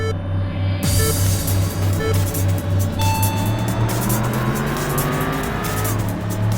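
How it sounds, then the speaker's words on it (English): A V6 race car engine in the video game Import Tuner Challenge drones steadily at high revs, with shifting pitch, tire squeal and a passing car over a continuous racing soundtrack. "From the sound of your engine, you sound like a fellow V6 user."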